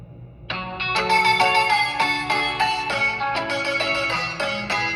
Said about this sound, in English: Hottest ringtones.